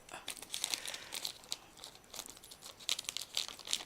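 Crinkly plastic packaging of a Hauppauge HD PVR 60 being torn and crumpled close by, with sharp bursts of rustling and tearing in an irregular rhythm.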